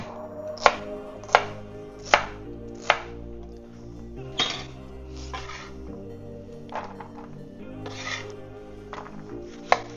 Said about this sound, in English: I'm going to do a small chop of celery.